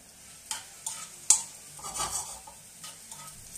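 Two small garlic cloves gently frying in olive oil, a faint soft sizzle with a few light clinks and stirring scrapes of a utensil in the pan.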